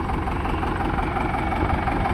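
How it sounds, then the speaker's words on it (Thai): A 47-horsepower Maxi 4708 tractor engine idles with a steady, close, low rumbling drone and no break. "รถไถ47 แรง ครับ ใช่ไหมนี่แม็กซี ่4708 ครับ"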